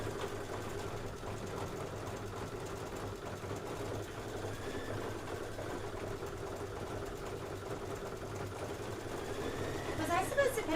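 A Kimberbell embroidery machine stitches a small section in a steady, fast mechanical whir with a faint rhythmic hum, running continuously at moderate volume.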